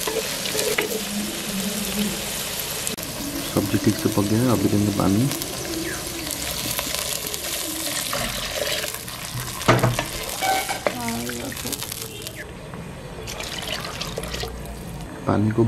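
Water is poured into vegetables cooking for upma, and the pan hisses and sizzles loudly as the mix is stirred, with a person talking over the kitchen noise.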